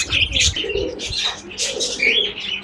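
Several pigeons kept with other birds coo and chirp close by in overlapping bursts, with a bit of wing flutter.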